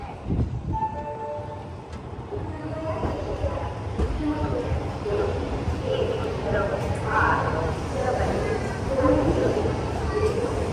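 A train pulls into Bhusawal Junction railway station, heard from aboard a sleeper class coach: a low rumbling rolling drone with rhythmic wheel clatter, while people talk nearby.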